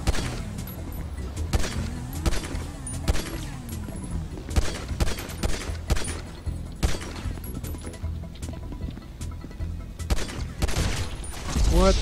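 Gunshots in the GTA V video game, an online last-man-standing match, with dense, close, scattered shots and bursts throughout, sharp cracks over constant game noise and a few rumbling booms.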